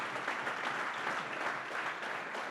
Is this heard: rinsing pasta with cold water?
no